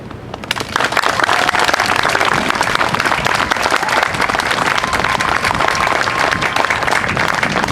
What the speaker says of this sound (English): Ladies and gentlemen, please join us in applauding the award recipients for Company G